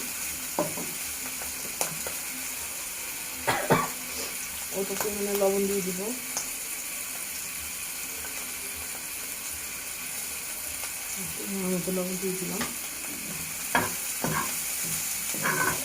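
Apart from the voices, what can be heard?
frying and stirring in a pan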